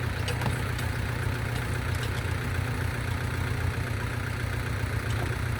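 A Kubota M5702 tractor engine idles steadily outdoors near an orchard field, a continuous low diesel rumble with a faint rattle, close and fairly loud throughout with no talking.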